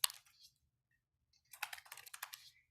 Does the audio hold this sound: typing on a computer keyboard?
yes